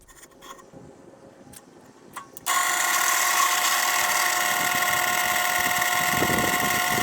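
Power drill boring pin holes through knife handle scales in a workshop, a few faint clicks and handling noises first, then a loud steady drill whine running continuously to the end.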